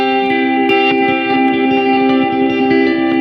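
Guitar through an Earthquaker Devices Avalanche Run delay and reverb pedal, with reversed delay repeats swelling behind sustained tones and quick plucked notes in a dense wash, loud and without voices.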